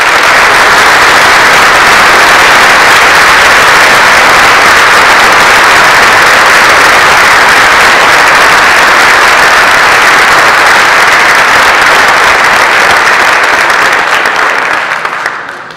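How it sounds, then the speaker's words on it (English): Loud, sustained applause from a large audience at a SABR 44 convention, dense clapping continuing evenly for several seconds before tapering slightly at the end. "Please, a round of applause for them"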